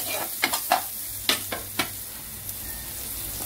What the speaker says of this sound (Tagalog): Lagay ko na yung bawang.